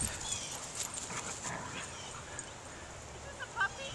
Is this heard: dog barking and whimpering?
yes